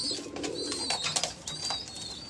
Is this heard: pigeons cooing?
yes